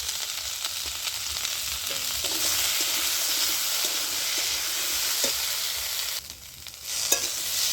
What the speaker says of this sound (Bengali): এর মধ্যে আমি এবারে কেটে রাখা ওলকপি, মূলা আর বাঁধাকপিটা নেড়ে নিচ্ছি